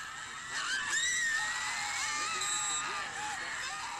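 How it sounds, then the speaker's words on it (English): A crowd screams loudly in a cell phone recording at a football game, a sustained high-pitched roar of voices that swells early and holds steady for several seconds. "insert cell phone video and loud screams here"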